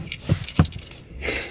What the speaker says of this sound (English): I got the keys.